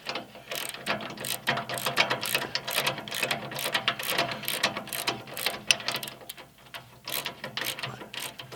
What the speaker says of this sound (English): I'm going to put a wrench on top here to hold the bolt, and socket underneath makes it real easy